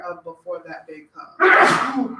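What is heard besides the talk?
sneeze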